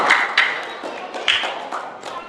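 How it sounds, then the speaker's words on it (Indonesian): Audience applause at a mosque gathering before breaking the fast, heard as a few brief bursts of clapping that come and go. "beri tepuk tangan buat kalian semua"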